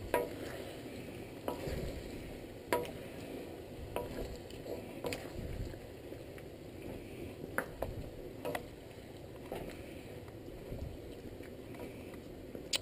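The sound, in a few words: stirring goat stew sizzling in pan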